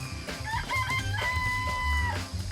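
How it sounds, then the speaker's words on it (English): In the Danganronpa video game, chickens give short clucks that swell into a drawn-out crowing call, heard up close over a low droning background hum. "I remember there were some chickens in here."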